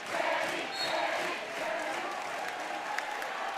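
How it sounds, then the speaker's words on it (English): Metamora home crowd at a boys' high school basketball game against Richwoods, a sustained roar of cheering and applause filling the gym, loud and continuous. "Metamora crowd, they love it. You can hear the cheers."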